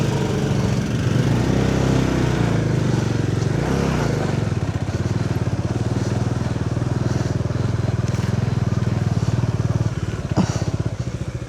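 A Bajaj Dominar 400 motorcycle engine drones loud and close on a steep offroad climb, a steady throbbing rumble with rising and dipping revs and occasional clatter from the rough track.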